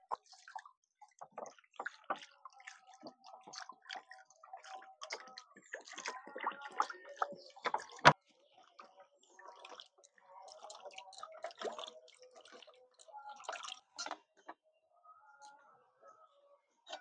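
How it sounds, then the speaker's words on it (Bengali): Water splashes and drips as cracked coconuts are rinsed for making coconut sweets, heard as scattered light trickles and taps at a close, quiet level with one sharp knock partway through. "একটু জল দিয়ে ধুয়ে নিচ্ছি।"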